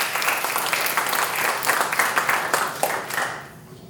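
An audience applauding the Tulsa Historical Society as event hosts, a dense sustained burst of many hands clapping, loud and close, fading out over the last half second.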